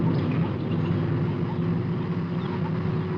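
Aircraft engines running up drone with a steady, rumbling hum throughout, a continuous mechanical roar with no break.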